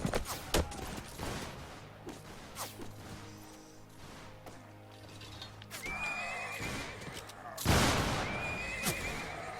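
A horse neighs loudly amid a musket battle in Mount & Blade Warband set in the American Revolution, with gunfire volleys, hoofbeats and background music, the whinny rising clearly near the end.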